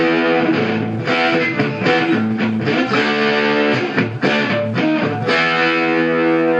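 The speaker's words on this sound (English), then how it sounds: "That's just so you can hear that distortion." Electric guitar lead played through a Marshall MKII lead amp with the preamp turned fully up and the master low, giving thick, saturated distortion; loud, continuous riffing with chord stabs and sustained notes, no voices.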